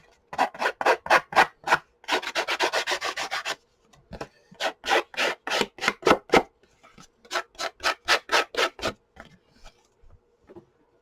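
Sandpaper glued onto a craft stick rubs the edges of a handmade paper mini journal, heard as quick rhythmic scratching strokes in close-up bursts, with one longer steady scrub and short pauses between runs, and no talking.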